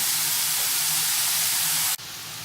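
Beef, vegetables, garlic and ginger sizzle in a hot pan for a Chinese stir-fried noodle dish, a loud, steady hiss that drops abruptly to a quieter sizzle near the end.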